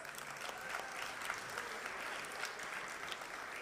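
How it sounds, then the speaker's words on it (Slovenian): An audience at the finale of the 28th FeNS music festival in 2023 applauds the teenage singers, a sustained, fairly distant wash of clapping from a large crowd that keeps an even level throughout. "Kar še en aplavz."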